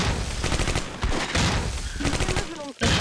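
Rapid MP40 submachine gun bursts from the WWII strategy game Close Combat: Cross of Iron, dense overlapping fire filling most of the clip with a brief lull near the end before shooting resumes.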